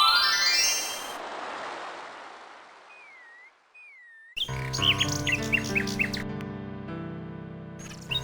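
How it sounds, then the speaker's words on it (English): A nightingale sings from a high tree branch in the DOS game King's Quest VI, heard as synthesized warbling, whistled phrases over layered game music after a soft noisy wash and a brief sliding tone. "A nightingale perches on a high branch of the tree. She sings the most beautiful song Alexander has ever heard."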